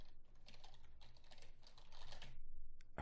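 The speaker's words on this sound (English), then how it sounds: "like the sound of me typing." Quick, irregular clicks of fingers typing on a computer keyboard, close and soft, with short bursts of keystrokes and a brief pause near the end before a final sharper tap.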